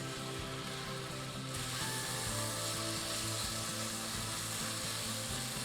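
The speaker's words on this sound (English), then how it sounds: "it's now time to add the beef, and I will toss it in the curry paste to get it coated nicely" Beef pieces sizzle loudly in a hot pan as they are tossed through curry paste for khao soi, a steady close frying hiss broken by scraping stir strokes.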